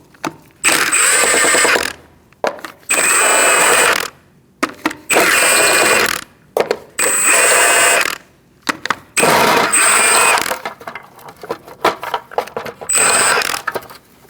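A power tool with a 19mm socket removes the hubcap on a Chevrolet HHR, loud buzzing impact-driver bursts lasting a second or so each, repeated five or six times with short gaps.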